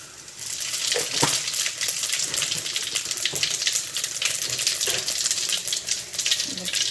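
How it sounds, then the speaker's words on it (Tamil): Cumin seeds dropped into hot oil for coriander chutney burst into a loud, close sizzle that starts abruptly and continues steadily, with sharp crackles and pops scattered throughout. "எண்ணெய் ஊற்றிருக்கிறேன் கொஞ்சம் சீரகம் போட்டுக்கலாம்"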